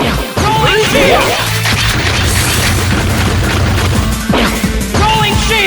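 Video game explosions in Mega Man Maverick Hunter X on PSP, loud repeated booms and crashing blasts with chirpy synthetic effects layered over game music, dense and continuous.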